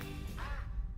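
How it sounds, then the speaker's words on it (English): A single duck gives a short nasal quack in the middle of a brief, fairly quiet stretch with low background rumble. "How about the duck noises?"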